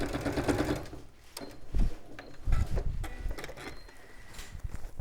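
Sewing machine stitching fabric for a bag, a few short, uneven bursts of mechanical whirring and clatter at close range, with no talking.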